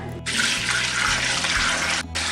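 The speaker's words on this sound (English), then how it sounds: "Just adding a little bit more water" Tap water runs into a broth pot holding chicken for stock, a steady bright rushing pour that starts after a brief pause, cuts out briefly, then resumes, close and with no talk.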